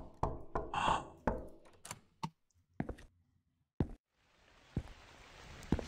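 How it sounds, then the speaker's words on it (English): A handful of sharp, separate knocks on a door ring out in a quiet room in the video game The Convenience Store, followed by a soft hiss of ambient noise toward the end. "Someone just knocked."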